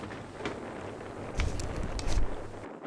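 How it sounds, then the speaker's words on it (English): Strong wind buffets the microphone outdoors on an Oregon desert trout-fishing trip, a steady rushing roar with louder gusts swelling near the end, alone without speech. "the wind from Man Lake must have followed us up here"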